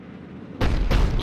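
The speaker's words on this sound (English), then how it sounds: "Looks like Cerberus got that cannon operational, Commander." A Cerberus cannon in Mass Effect 3 fires two heavy, booming blasts in quick succession, the first landing abruptly after a quiet rumbling lull and the second following about a third of a second later, both loud and close.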